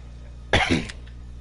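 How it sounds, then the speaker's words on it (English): A single short burst of coughing mixed with throat clearing, close and fairly loud, lasting about half a second against a quiet steady background hum. "That's why I cough."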